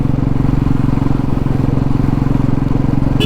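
A motorcycle on a weekend ride, its engine loud and close with a steady pulsing throb and no voices.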